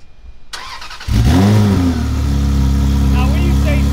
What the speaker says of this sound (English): Hit us with a cold start real quick.